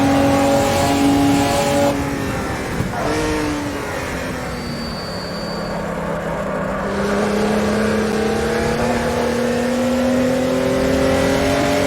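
A car on street tyres drives a race track, its engine note rising and falling steadily through shifts and holding loud and close throughout.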